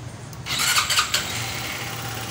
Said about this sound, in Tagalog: ang makina ng 175. One click start.